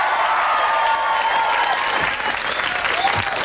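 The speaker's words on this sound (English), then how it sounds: "Give them a big round of applause." A 1991 television studio audience gives dense, even applause that continues loudly and steadily for the whole stretch.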